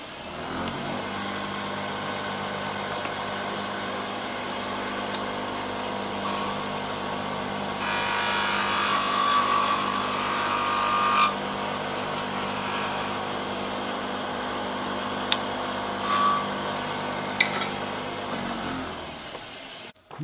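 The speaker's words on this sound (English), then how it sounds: "with a skew, you make a pretty nice finish, even with pine" A skew chisel cuts a finishing pass on pine turning on a lathe, a steady mid-pitched motor hum with a brighter scraping band in the middle and a few sharp ticks toward the end.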